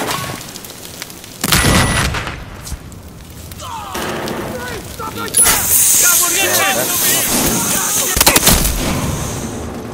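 Rapid gunfire and booming shots from the video game Battlefield Hardline, loud and close, in bursts across the clip with a long sustained stretch of firing and a cluster of sharp reports near the end.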